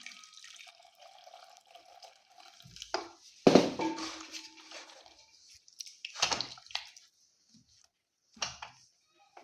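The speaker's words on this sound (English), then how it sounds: "you add the hot water there" Hot water being poured into a cooking pot for a low-budget Ugandan meal, heard as intermittent splashing pours of varying strength, one louder gush and several shorter bursts, close by with no talking.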